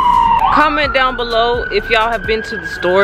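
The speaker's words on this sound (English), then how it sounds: "Oh, that's the ambulance." An ambulance siren passes near a grocery store, its loud wail sliding up and then holding steady for several seconds while a person keeps talking over it.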